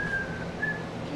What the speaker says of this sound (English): whistle, that's when you make your mouth like this and you whistle